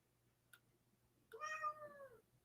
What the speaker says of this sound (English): did you guys hear my cat meowing?